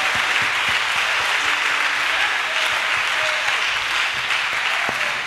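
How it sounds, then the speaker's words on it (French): A church congregation claps steadily and loudly throughout, a dense, even wash of applause with a few scattered voices underneath. "Il faut applaudir pour le Seigneur."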